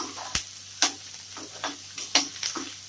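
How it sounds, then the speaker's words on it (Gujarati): Finely chopped onion frying over a full flame in oil with cumin and asafoetida, a steady close sizzle broken by sharp stirring scrapes and spatters at irregular intervals. "ઝીણી સમારેલી ડુંગળી ફ્રેન્ડ્સ ઓનિયનને આપણે ફૂલ ફ્લેમ ઉપર શેકીશું"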